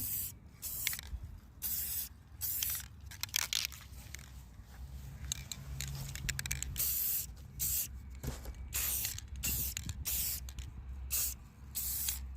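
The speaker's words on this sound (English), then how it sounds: "Now spray paint however you want, people. I'm flipping mine upside down and then I'm gonna do the top." Metallic silver spray paint hisses from an aerosol can onto a garden dish in bursts of short and longer sprays, close and fairly loud, with no talking.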